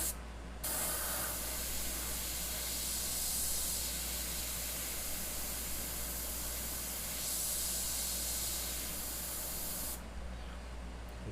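An airbrush sprays paint onto a small rivet detail on a custom Grim Reaper paint job, a continuous close hiss of air that starts abruptly just after the opening and cuts off near the end, with no talking.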